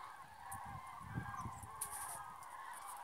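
Flock of migrating cranes calling overhead above a farm in cold weather, a steady chorus of honking, trumpeting calls at moderate distance, faint and continuous with no talk.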